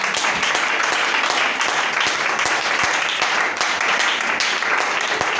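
A church congregation applauding in praise of the Lord, a dense, steady wash of many hands clapping at once, loud and close throughout with no pause.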